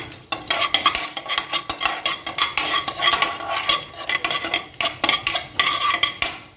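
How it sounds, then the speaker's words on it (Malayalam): A cup of chopped onions stirred in a frying pan, with rapid rhythmic spoon scraping and metal clatter over a light sizzle, busy and close with no talk. "ഒരു കപ്പ് സവാള ഇടാം നന്നായിട്ട് ഫ്രൈ ആവട്ടെ"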